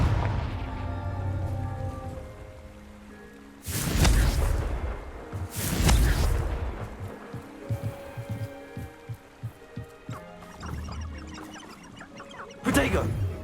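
Three Confringo blasting-spell explosions from Hogwarts Legacy go off as sharp, loud booming bursts amid game music and combat sounds, with a voice shouting in between.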